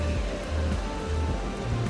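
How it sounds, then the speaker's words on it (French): Steady rain pours down outdoors in England, a dense, even wash of patter with low rumbling underneath, fairly loud and continuous with no voices. "que de la pluie"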